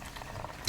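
Pork dumplings fry in hot oil, giving a close, steady crackling sizzle with a small pop near the end, no voices over it.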